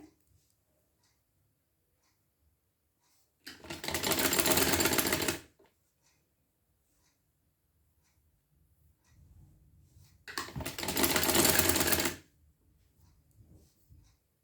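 A sewing machine stitching a frill onto a kurti runs in two loud, close bursts of rapid needle chatter, each about two seconds long, separated by quiet handling noise.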